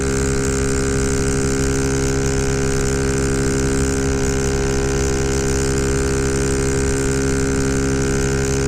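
Ruckus scooter engine fitted with 12g rollers holds a loud, steady high-RPM drone, its unbroken buzzing tone running close and continuous throughout with no talk.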